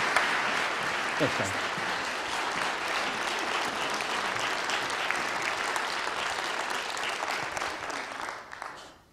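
Audience applause greeting the keynote speaker at a nature conference, a dense steady clapping that fills the room and holds evenly before fading out at the end.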